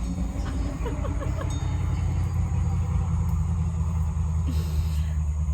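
An old car passing by outdoors, its low engine rumble steady and fairly loud throughout, with faint traffic noise above it.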